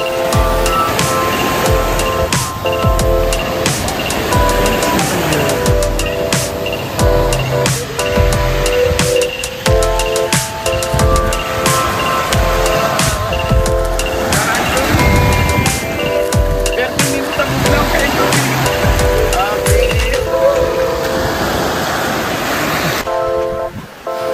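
Ocean surf washes onto the beach at Panglao, Bohol, in a continuous loud rush of breaking waves, with wind buffeting the microphone and soft music in the background.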